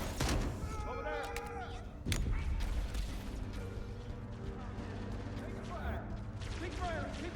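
Gunfire and explosions from the Halo Campaign Evolved video game, a dense continuous barrage of shots and booms with a sharp blast near the middle, layered under shouted voices and game music.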